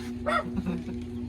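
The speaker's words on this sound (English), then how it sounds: "We have a very vocal dog out there." Dog barking outside at a rural home: one short, yippy bark-whimper close by, over a steady low electrical hum.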